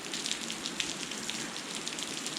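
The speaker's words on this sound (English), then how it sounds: "it just suddenly started raining really heavily and just like thundering" Heavy monsoon rain pours down in Kerala, a dense, steady roar of drops drumming on surfaces, close and continuous without a break and with no voices over it.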